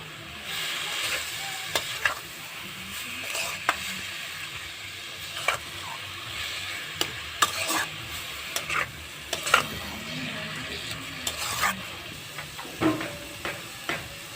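Grated radish bhorta fries with a soft, steady sizzle in a pan, broken by frequent sharp scrapes and clicks of a spatula stirring it.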